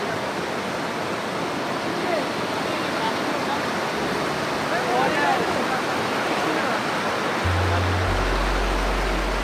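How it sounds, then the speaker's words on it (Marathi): A waterfall running with reduced flow after light rain gives a steady, dense roar that fills the whole stretch at an even level, close by and unbroken. "तर मित्रांनो हाच तो वॉटरफॉल."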